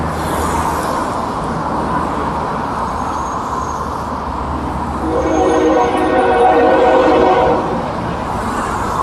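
A train rumbles past at a busy crossing in Sapperton, New Westminster, British Columbia, with steady loud rolling noise throughout and a long, tonal horn blast rising in the second half over nearby traffic.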